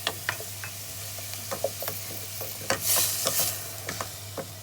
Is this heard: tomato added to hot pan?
yes